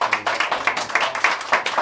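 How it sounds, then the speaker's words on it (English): A football team claps together during a pre-match talk before a playoff semi-final, with close, steady rhythmic claps repeating about four times a second and little else underneath. "Everybody give Jamal a clap"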